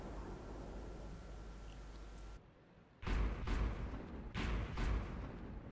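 Tank cannon fire in World of Tanks, aimed at a KV-1, heard as two loud, booming shots about a second and a half apart, each rolling off into a rumble, with no talk.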